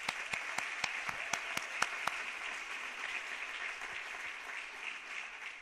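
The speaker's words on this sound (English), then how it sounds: "Let's give her a nice round of applause." Applause from the audience at a 2017 National Junior Honor Society induction ceremony honoring an inductee: a few crisp individual claps open, then dense, steady clapping continues, fairly faint and distant.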